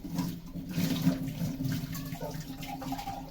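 Tap water runs steadily while dishes are washed by hand, giving a continuous close splashing and hissing with faint clinks and shifts in the flow throughout.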